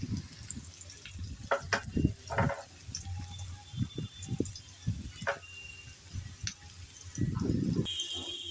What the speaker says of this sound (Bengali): আলু আর পটল কিছুক্ষণ ভেজে নিলাম। এখন দিয়ে দেব পেঁয়াজ কুচি।